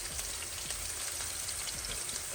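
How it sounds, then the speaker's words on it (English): Steady broadband sizzle of green pepper frying in a pan, crackling continuously throughout with no voices. "Now I'm frying my green pepper"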